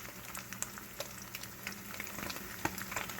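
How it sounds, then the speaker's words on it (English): An omelet frying in hot oil, a steady close sizzle broken by frequent sharp crackles and pops, with no one talking. "When that oil is really popping, you know you're at a pretty good heat level"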